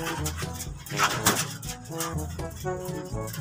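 A young club-ring pigeon of a Bicolano line coos softly while held in the hand and struggling, with low, rounded coos repeating steadily under light handling noise.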